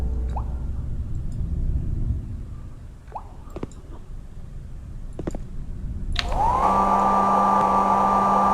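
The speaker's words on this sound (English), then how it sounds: "So we have a hand dryer." An electric hand dryer in the Barrow Hill game switches on after a few soft clicks and drips, then blows in a loud, steady whir that runs unbroken to the end.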